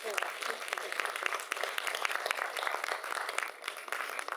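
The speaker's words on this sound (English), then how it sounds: "let's give him a round of applause for his presentation" Conference audience applauds after a keynote address on Malaysia's development, with crisp individual hand claps forming a lively, even patter throughout that dips slightly near the end.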